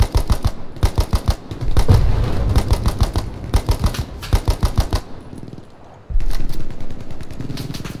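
Machine gun cover fire from Hell Let Loose at Omaha Beach comes as loud close bursts of rapid shots, with several volleys broken by short pauses and one quieter gap before the firing starts again.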